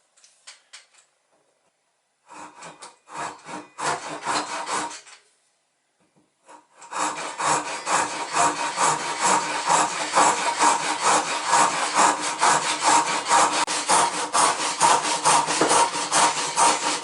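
A saw cuts wood for a small toy sailing boat, a rowing-boat style craft. Two short bursts of strokes come after a pause, then a long steady run of rhythmic rasping back-and-forth strokes, close and clear.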